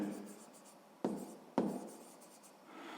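A word is written by hand on paper, giving soft scratchy pen strokes with two sharper scraping bursts, close and quiet.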